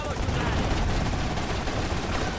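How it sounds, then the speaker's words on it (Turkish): Gunfire from a helicopter in GTA Vice City Definitive Edition, a loud, constant, dense wash of rapid shots and rotor noise filling the whole moment without a break. "Helikopterden sıkıyorlar"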